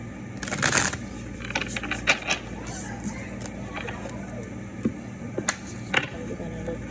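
Crisp riffling bursts of a new, stiff tarot deck being shuffled by hand, close and quick, with a few separate snaps and taps scattered through.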